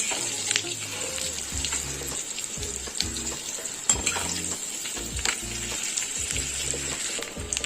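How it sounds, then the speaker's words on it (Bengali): Rohu fish roe fritters fry over a medium flame, giving a steady close sizzle of hot oil with repeated bubbling crackles, loud and continuous. "মিডিয়াম ফ্লেমে রেখে আমি দু সাইডই ভালোভাবে ভেজে নিয়েছি বড়াগুলো"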